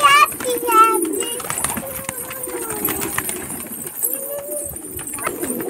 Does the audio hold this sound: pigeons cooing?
yes